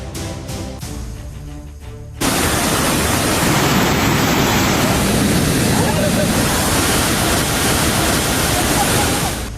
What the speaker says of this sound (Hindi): पानी की ये आवाज रोंगटे खड़े कर देती है।